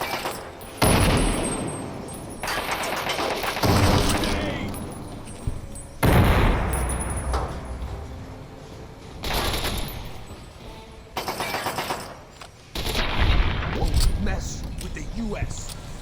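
A grenade blast and bursts of gunfire from Fallout 3's Operation Anchorage, the booms and rapid shots recurring in several loud clusters, with a voice speaking between them.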